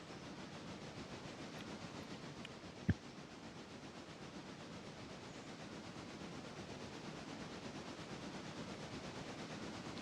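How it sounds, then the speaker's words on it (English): Trains running in a railway simulator game with a yard of shunting locomotives, a faint, steady rolling rumble and hiss throughout, with one sharp metallic clank near the middle. "So you've got trains everywhere."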